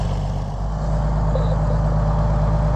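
An Oliver tractor engine runs at a loud, steady low rumble while hitched to an Oliver 520 baler, droning on with little change in pitch and no talking.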